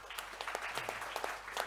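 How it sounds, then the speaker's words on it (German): Audience at a panel discussion on hydrogen and the energy transition gives a short burst of applause, crisp individual claps overlapping in a steady patter for under two seconds. "Ein Dankeschön, Applaus an Dr."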